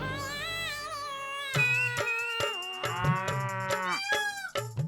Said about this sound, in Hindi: ये तो गधा है।